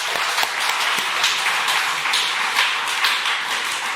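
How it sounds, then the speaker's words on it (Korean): A church congregation at a Sunday worship service claps in sustained, even applause of many hands, bright and continuous with no talk over it. "우리 자녀들이 축복받을 수 있도록 격려의 박수"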